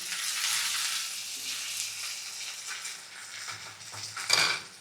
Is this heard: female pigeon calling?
no